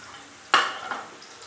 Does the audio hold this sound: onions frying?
yes